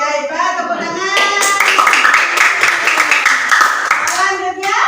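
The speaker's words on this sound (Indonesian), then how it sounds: "Tepuk tangan" Children in a classroom clap their hands together in a loud, dense burst of rapid claps lasting a few seconds, after brief talk from a teacher, with the clapping fading toward the end.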